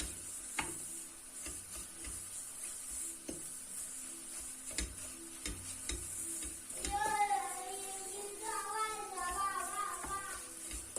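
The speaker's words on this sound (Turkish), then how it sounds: "karıştırıyorum." Semolina for helva being stirred in a pan, with a faint sizzle under scattered clicks and scrapes of the spoon, quiet and close, joined later by a brief tonal sound.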